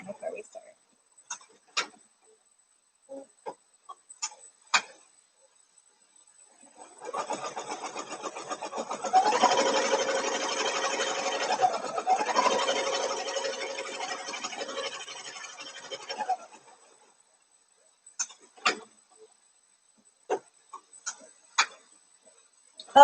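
An embroidery machine stitching fine web-like fill patterns runs steadily for about ten seconds with a busy rapid mechanical chatter, framed by scattered clicks and quiet gaps before and after.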